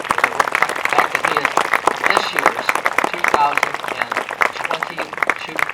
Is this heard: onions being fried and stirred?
no